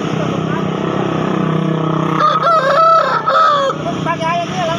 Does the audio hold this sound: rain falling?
no